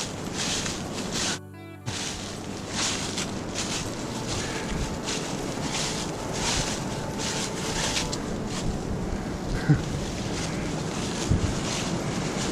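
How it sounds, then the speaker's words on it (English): Strong wind roars continuously on a forest trail through rhododendron tunnels in Cherokee National Forest, buffeting the microphone in steady gusts with a brief dip near the start, loud and close with no talking. "And that wind is just going crazy."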